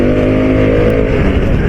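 A motorcycle engine revs hard as the throttle opens, a loud, close, steady harmonic drone that climbs slightly in pitch.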